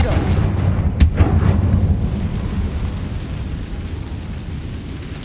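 Confringo blasting spell explosion in Hogwarts Legacy: one sharp blast about a second in, trailing into a heavy low rumble that slowly fades, with no one speaking.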